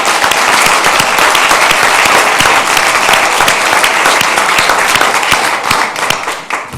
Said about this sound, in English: can we get a round of applause to all the other schools again real quick?